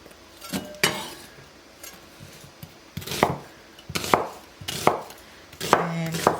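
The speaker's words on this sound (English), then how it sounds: "we're just going to rough chop" A knife rough-chops vegetables for soup on a board, giving sharp, close thuds at uneven intervals, several single strikes with short pauses between them and a quicker cluster near the end.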